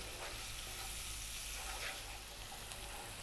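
Sliced tomato sizzling and frying in a hot pan over above-medium heat, a steady, close crackling hiss that holds throughout with a faint low hum beneath and no talking.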